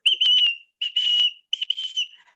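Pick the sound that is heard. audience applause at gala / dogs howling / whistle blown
whistle blown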